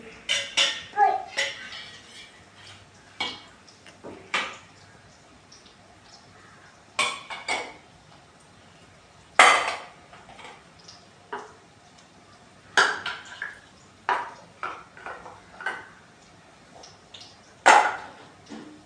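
A child gathers metal dishes, steel plates and small utensils, setting off repeated clinks and clatters in scattered bursts near the listener, with quiet gaps between handfuls.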